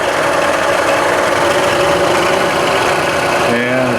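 A Bridgeport Series I vertical milling machine with Prototrak control runs its spindle at low speed, giving a loud, steady mechanical hum and whir that stays close and constant, with a brief change in tone near the end.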